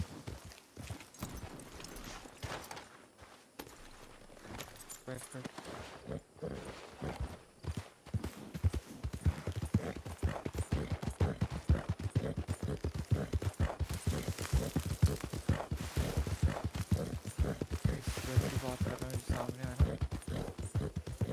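Horse hooves clip-clop steadily in the Red Dead Redemption 2 Wild West setting, a brisk rhythmic gait that quickens and grows louder through the second half, with faint talk underneath.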